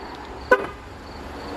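A 2020 Jeep Grand Cherokee High Altitude gives a single short horn chirp as it is locked from the key. The chirp is quick and moderately loud against a quiet background.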